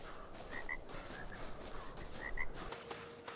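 Frogs croak in ARK: Survival Evolved at nightfall, giving a few short, paired chirping croaks over a soft, constant hiss of ambient noise.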